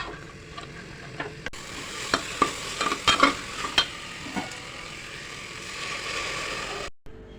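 Tomato and onion roasting in a pan as they are stirred, a soft sizzle under a cluster of scraping and clinking strokes in the middle, then a steadier hiss that cuts off abruptly.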